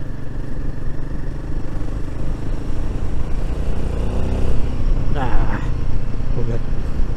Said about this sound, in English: It rides over these pothole ridden roads very nicely.